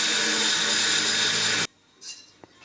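An angle grinder cuts through cutlass blade steel with a loud, steady, harsh whine that stops abruptly, followed by a few faint workshop clinks.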